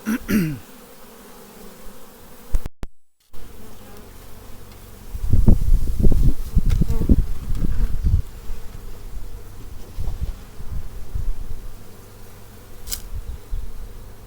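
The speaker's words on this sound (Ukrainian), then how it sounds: "це дійсно рій" A honeybee swarm settled into a previously empty hive at an apiary buzzes close by in swelling bursts, rising loud for several seconds and then easing to a lower, uneven hum.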